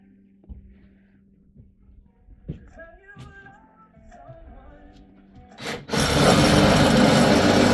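A Sawzall reciprocating saw starts up and cuts loudly and harshly through wood, coming in after a few seconds of scattered knocks, faint speech and handling noise.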